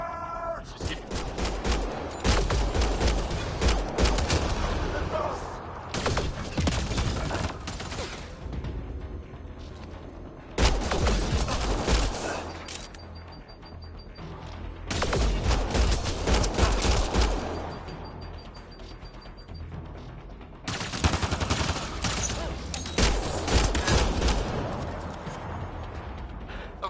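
Sustained bursts of gunfire in the sci-fi shooter Mass Effect Andromeda, with loud rapid volleys in several waves separated by brief lulls, dense and close.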